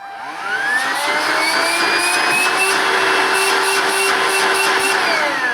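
A Vax Slim Vac Total Home cordless vacuum cleaner spins up, then holds a loud, steady, close motor whine with a high-pitched tone.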